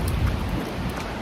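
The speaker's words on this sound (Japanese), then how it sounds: "大阪なんですが、かなり雨が降っています。" Heavy rain pours down in Osaka during a run. It makes a dense, steady roar and hiss close by for the whole stretch, with no voices.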